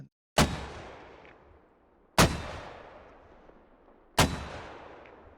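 Mortar rounds from the Squad video game fire at close range, three sharp, loud blasts spaced about two seconds apart, each followed by a long rumbling decay, with nobody talking.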